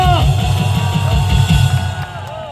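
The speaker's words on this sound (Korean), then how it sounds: "큰 박수로 환영해 주시기 바랍니다." A rally crowd at Gwanghwamun cheers, yells and applauds to welcome a speaker. The sound is loud, dense and sustained, with the roar easing slightly near the end.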